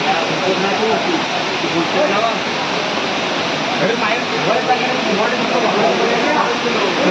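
A swollen river runs right beside a Konkan village path, its flowing water making a loud, steady broadband roar that never lets up for the whole stretch.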